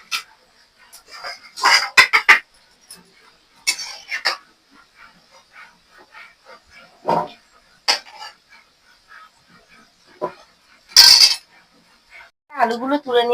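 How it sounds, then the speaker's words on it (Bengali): Golden fried potatoes are lifted out of a pan of oil with a metal utensil while cooking murighonto, giving scattered clinks, taps and scrapes against the pan in irregular bursts, close by, with brief quiet gaps between. "আলুগুলো গোল্ডেন কালার হয়ে গেছে ভেজে। এবারে আলুগুলোকে তুলে নেব।"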